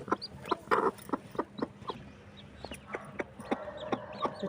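Small flock of chickens clucking near the spot where jaggery water is set out for young chicks, a steady run of short, close clucks and soft calls with no talk.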